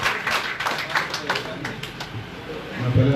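An audience at a gathering claps in a scattered burst of hand claps, loud and close at first, then thinning out while someone talks over it.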